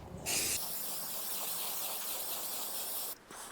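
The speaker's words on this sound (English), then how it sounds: "We're going to be spraying the filter oil." Steady aerosol spray of K&N air filter oil hissing continuously for about three seconds, close and loud, with a brief sharper burst at the start and a short pause near the end.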